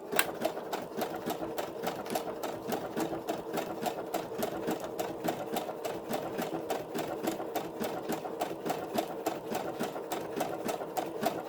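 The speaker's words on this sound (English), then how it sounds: "This is going to be a better one, a better stitch." A sewing machine stitches paper to cloth with a fast, even, rhythmic clatter that runs continuously at moderate loudness, with no talking.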